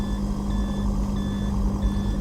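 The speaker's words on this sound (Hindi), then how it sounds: "this is from the seat belt reminder" A car's seat belt reminder chimes in a repeating two-tone pattern of beeps over a steady engine hum inside the cabin, with no one speaking.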